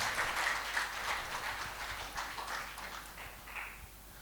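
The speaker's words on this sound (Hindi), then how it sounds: "जोरदार तालियों से" An audience at an evening of music and poetry breaking into applause, a soft, fairly distant patter of many hands clapping steadily throughout and slowly thinning toward the end.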